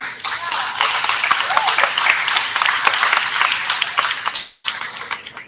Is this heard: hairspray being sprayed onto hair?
no